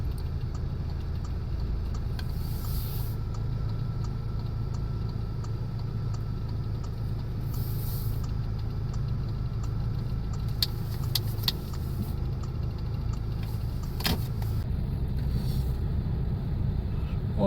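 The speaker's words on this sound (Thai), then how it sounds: "โอ้รถสัญจรหลายอยู่มื้อนี้อยู่ในนครหลวงเวียงจันทร์" Road traffic in Vientiane, a steady rumble of car engines passing and idling nearby, with occasional faint jangles and clicks over the continuous drone.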